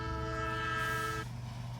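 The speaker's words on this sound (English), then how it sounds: "Here is another engine coming, a great big strong one." A great big steam engine arrives and comes to a stop, sounding a loud sustained multi-tone whistle that cuts off abruptly, leaving a low rumble.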